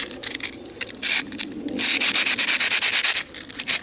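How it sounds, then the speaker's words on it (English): Roof tiles are rubbed together over a small food container, making loud, close, rhythmic gritty scraping strokes, with quicker repeated rubs toward the end. "just take the tiles and rub them together over my container"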